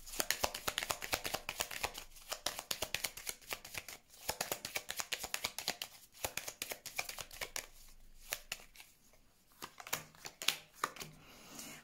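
Oracle cards being shuffled and laid out, a dense run of crisp papery flicks and riffles with brief pauses, close and steady throughout, with no talking over it.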